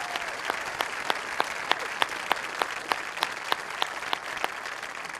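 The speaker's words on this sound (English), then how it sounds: "I respectfully ask that you congratulate them with a round of applause for their dedication and hard work." Audience at a 2016 high school graduation ceremony applauds teachers, sustained rolling clapping from a large crowd with crisp nearby claps standing out, filling the hall.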